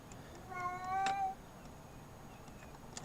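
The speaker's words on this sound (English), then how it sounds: "Hear the cat meowing" A cat gives a single drawn-out meow in a quiet room, faint and somewhat distant, alongside a few soft clicks.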